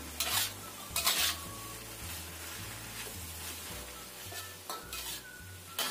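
Mustard greens stir-fry with shrimp paste and spices in a pan, a low sizzle under repeated scraping and clanking of a utensil against the pan, close and fairly quiet, with no talking.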